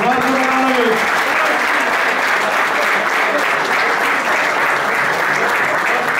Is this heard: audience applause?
yes